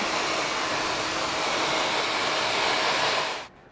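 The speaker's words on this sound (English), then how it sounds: "with high heat on a blow dryer, you kind of want to end with the cold hair to close the cuticles" A blow dryer on high heat runs steadily in a barbershop, drying a customer's hair as a loud, constant whooshing roar that cuts off abruptly near the end, with no talking.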